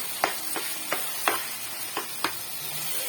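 Turmeric-spiced flour dough is mixed by hand in a kitchen, heard as six soft, evenly spaced slaps and squelches over a steady sizzling hiss, with no talk.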